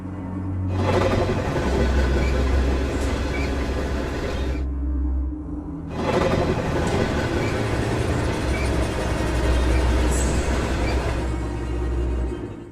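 A high-speed train roars by nearby in two sustained loud passes of rushing rumble and rail noise, separated by a brief quiet gap, with no speech.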